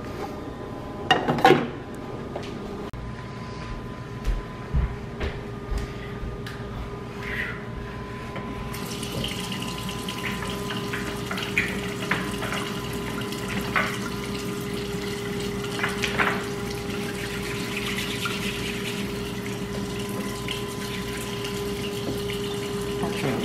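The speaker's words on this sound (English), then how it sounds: "It's got the water boiling" Steady running water and a low hum fill the scene, with a few clinks of dishes near the start; a continuous bubbling, watery hiss throughout from a pot of water boiling for ramen.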